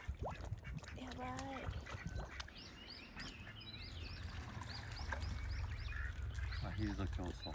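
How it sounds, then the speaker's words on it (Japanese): Ducks quack repeatedly in a short series at moderate distance beside a pond where carp gather, over steady outdoor background noise, with people talking now and then. "アヒルと競争。"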